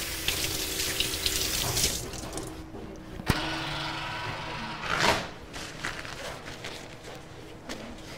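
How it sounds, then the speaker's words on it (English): A tap runs steadily for hand washing at a bakery shop counter, a moderately close hiss of water with splashing and a few clatters and bumps around it. "Let me wash my hands real fast."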